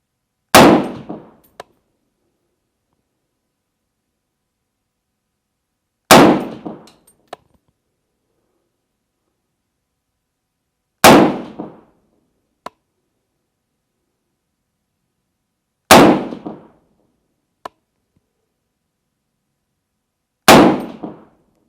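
Five AR-10 rifle shots crack loudly at evenly spaced intervals, about five seconds apart, each followed by a faint metallic ping from a 12-inch steel plate at 100 yards, with silence between and no talking.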